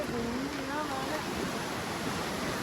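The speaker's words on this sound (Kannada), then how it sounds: "ಚೆನ್ನಾಗಿದೆ ಮಳೆ" Monsoon rain falling on the Kurinjal Peak trek, a dense steady hiss of rain with a faint voice partly audible beneath it.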